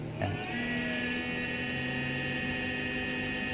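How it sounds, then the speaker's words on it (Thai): The cooling fan of a faulty 1000W grid-tie inverter runs with a steady, loud whirring hum and a whine from a worn, stiff bearing, continuous and close by. "เสียงพัดลม"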